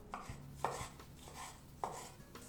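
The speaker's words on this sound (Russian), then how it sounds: "Удалите плодоножку из помидора и мелко порежьте." Crisp knife strikes finely chopping a tomato on a cutting board, a few spaced cuts with a soft board thud, close and alone with no talking.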